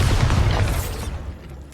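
A Bombarda spell blast from Hogwarts Legacy bursts loud and booming, then its heavy rumble fades over about a second into quieter ambience.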